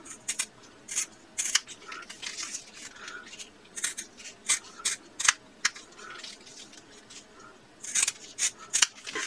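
Scissors snip through fabric zipper tabs in a series of sharp, close crisp cuts, irregular in rhythm with brief pauses between clusters, alone without talk.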